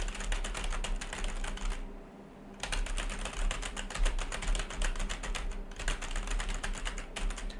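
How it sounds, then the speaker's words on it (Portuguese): Fast, continuous typing on a semi-mechanical computer keyboard, a dense patter of light clacky keystrokes with two brief pauses, close and moderately quiet, with no voices. "Eu vou teclar um pouquinho aqui, lembrando que esse não é um teclado mecânico. Ele é um teclado semi-mecânico"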